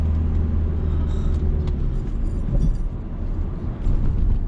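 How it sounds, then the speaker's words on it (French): A car accelerates in third gear during a driving lesson, its engine a steady, loud low rumble with road noise from inside the cabin. "là, on peut accélérer et mettre la 3"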